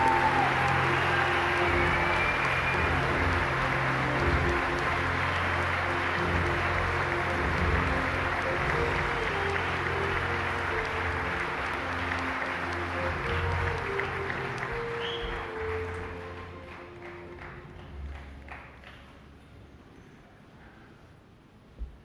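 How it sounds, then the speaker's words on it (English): Long, sustained applause from a large crowd at a Basketball Hall of Fame enshrinement for Tom "Satch" Sanders, a dense roar of clapping that slowly subsides into near quiet, with a low hum beneath. "thanks for that round of applause"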